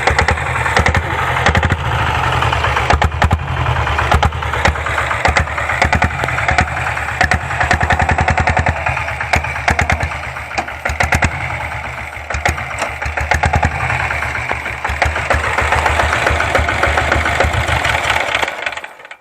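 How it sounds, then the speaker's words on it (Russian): A diesel Royal Enfield Bullet motorcycle engine runs steadily up close, a loud, continuous thudding idle with a knocking, mechanical rhythm throughout, with no voices. "भाई ये है डीजल वाली बुलेट, इसका इंजन देख लो।"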